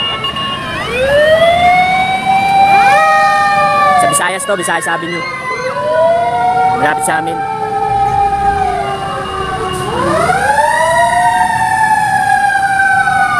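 Fire truck sirens wail in repeated rising and falling sweeps, loud and close, at a large fire in a crowded residential compound, with a horn blast in between and people talking over them.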